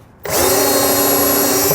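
A power drill spins up abruptly and runs at a steady, loud whine while boring mounting holes for an inverter installed in a 2007 Four Winds RV, a single continuous burst after a brief quiet start.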